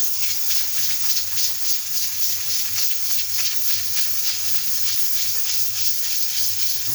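Steady steam hiss from a pressure cooker on high flame cooking chicken feet, constant and fairly loud throughout, with a low hum beneath and no distinct whistle blast standing out.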